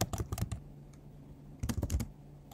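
Close, crisp tapping on a computer keyboard while coding, arriving in two quick bursts of rapid keystrokes separated by a short pause with only a stray key press between them.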